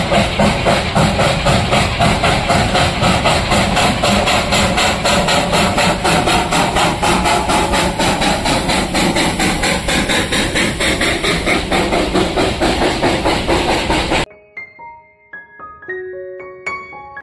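The Darjeeling toy train runs around the Batasia Loop track, with a steady rhythmic chuffing and clatter that carries loudly and close for about fourteen seconds, then cuts off sharply, leaving faint, scattered tones.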